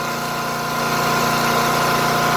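A Dirty Hand Tools 22-ton log splitter's gas engine drones steadily and loudly up close, an even mechanical hum with no talking.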